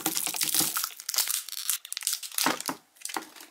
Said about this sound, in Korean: 비닐을 벗겨줄게요.